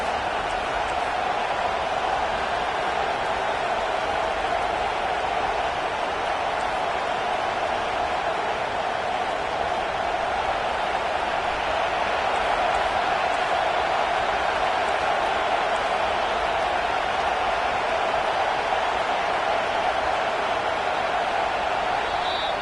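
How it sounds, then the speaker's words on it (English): A stadium crowd in a college football video game keeps up a steady, loud roar throughout, cheering to help the home defense, with no voices standing out. "It is getting loud as this crowd tries to help its defense."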